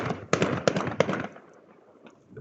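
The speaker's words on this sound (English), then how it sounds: "There's a random fireworks set that's going off in the background." A fireworks set goes off in the background at a karting track, with three sharp bangs close together followed by a fading crackle and rumble, and no one speaking.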